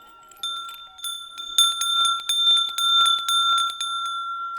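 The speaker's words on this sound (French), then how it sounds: "avec un seul extincteur, on va pouvoir fabriquer deux cloches avec les deux extrémités" Bell made from the cut-off end of a fire extinguisher, struck repeatedly in an uneven rhythm, each strike ringing with bright, sustained metallic overtones that overlap and linger, close and fairly loud with no talking.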